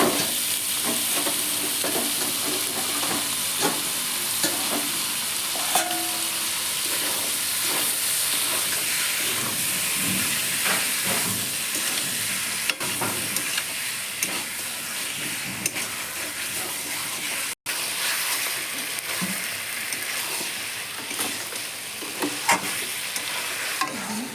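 Meat stir-fried with cooked-down spices in a pan for chicken kosha, a steady close sizzle and frying hiss with scraping stirs throughout and no talk.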